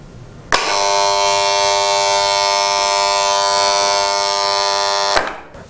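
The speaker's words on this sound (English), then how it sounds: "when all the 3-phase supply is established, the motor will start working" Three-phase electric motor starting abruptly and running at a steady, loud hum with a bright buzzing whine for about five seconds before cutting off sharply.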